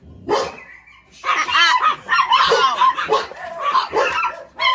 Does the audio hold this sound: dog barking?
yes